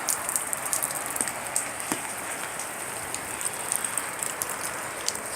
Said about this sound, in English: It's raining, so the rivers are flooding.